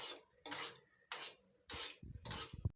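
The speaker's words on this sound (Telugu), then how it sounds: "ఇలా తిప్పుతూ ఉండండి, లేదా అడుగంటేస్తుంది." Kala jamun frying in a pan on a low flame are stirred with a utensil, giving four distinct scraping strokes against the pan at an even rhythm, close and fairly quiet, with no talking.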